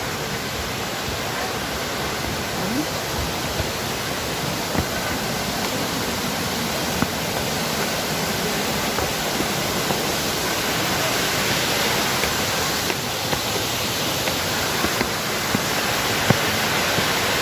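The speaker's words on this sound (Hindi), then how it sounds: "बस अब हम पहुँच ही गए वाटरफॉल।" Bhagsunag waterfall roars as a dense, continuous rush of falling water, steady and enveloping from start to finish, with no voices over it.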